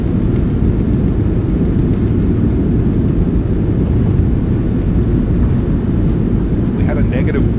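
Roaring jet engine noise from a PMDG 737-700 in a flight simulator, thrust reversers deployed during the landing rollout: a loud, steady broadband rumble that holds throughout with little change.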